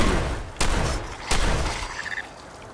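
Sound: Mirelurk King sonic boom attack in Fallout video game

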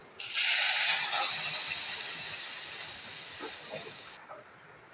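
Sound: water added to hot pan of paneer gravy

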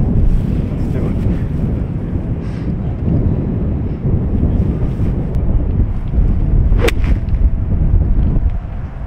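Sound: wind on a golf course

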